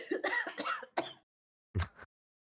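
A single cough, close and fairly loud, after a stretch of talk by a player during a tabletop Dungeons & Dragons 5e session; it is short and sharp with a brief second burst.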